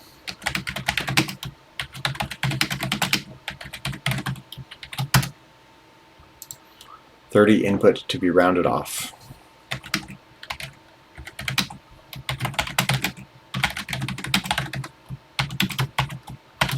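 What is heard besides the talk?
typing on computer keyboard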